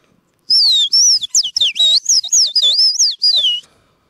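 A rapid run of high, chirpy bird-call notes, about a dozen in quick succession, loud and close, whistled by a person imitating an assanhaço (sayaca tanager).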